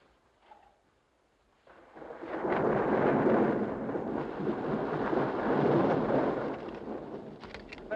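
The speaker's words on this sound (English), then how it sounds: "It looks like those storm clouds are headed our way." Thunder from an approaching storm in a 1957 horror film, a long, deep rolling rumble that swells in after a quiet start and keeps rumbling loudly, with no voices.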